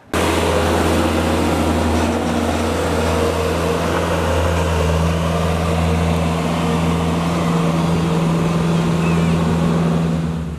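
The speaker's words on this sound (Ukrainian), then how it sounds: "Спецтехніка знімає старе покриття з доріжок." Heavy machinery tearing up old paving slabs from footpaths in a residential courtyard makes a continuous low engine drone with a rumbling hum. The machine is heard at moderate distance, steady for the whole stretch with some scraping texture above it.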